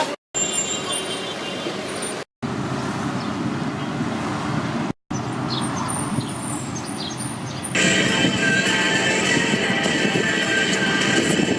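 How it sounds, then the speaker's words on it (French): Taxi ride toward an airport in Bangkok, with a constant rumbling road and engine drone inside the car, broken by brief cuts, and louder hissing traffic noise in the final seconds. "je suis en direction de l'aéroport, j'ai trouvé un petit taxi"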